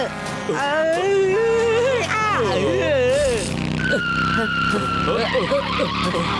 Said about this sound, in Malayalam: അയ്യോ, ട്രക്ക്.